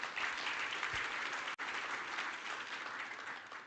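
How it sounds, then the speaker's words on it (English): An audience at an oil and gas conference in Namibia applauds in a dense, even wash of clapping from many hands that holds steady throughout, with one brief dropout partway through. "Can we give him another round of applause?"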